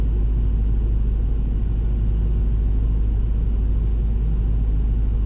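A Toyota Tacoma with a blown head gasket being lightly revved, a steady close low engine rumble with little change in pitch, no talk.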